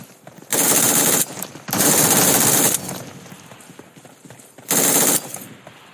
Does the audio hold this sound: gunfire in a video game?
yes